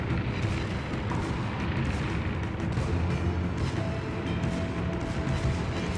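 Heavy battleship guns fire in World of Warships, a dense, continuous rumble of booming salvos and impacts that stays loud throughout, with no talking over it.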